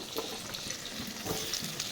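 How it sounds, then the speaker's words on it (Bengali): Cut potatoes fry in hot oil in a pan, a soft, steady sizzle with faint crackles throughout, fairly quiet and with no voices. "আলুগুলো দিয়ে দিলাম ভাজা হলে পরে লাস্টে বেগুনটা দেব"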